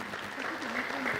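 Audience applause for an award winner, a student from St. Mary's Girls, at an African readers' literacy conference: steady, dense clapping from a crowd, with a voice rising briefly over it.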